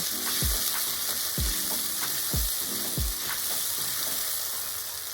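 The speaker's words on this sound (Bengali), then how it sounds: "টমেটোটাকে দিয়ে আমি খুব ভালোভাবে নেড়ে নেব।" Grated tomato sizzles loudly in a frying pan while a spoon stirs it, with several rhythmic scraping strokes over a constant close frying hiss and no talk.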